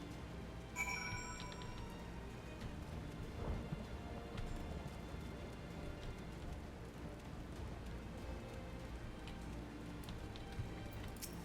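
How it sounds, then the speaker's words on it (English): Rain in the video game Final Fantasy XIV, a steady hiss of falling rain with low rumbling underneath, constant and even throughout with no voices. "Why does it have to be raining?"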